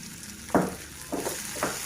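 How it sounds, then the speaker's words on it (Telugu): Tomato frying in a pan with spice powder stirred in, giving a low steady sizzle broken by three louder stirring scrapes. "ఇప్పుడు ఈ టమాటా వేగుతుంది కదా"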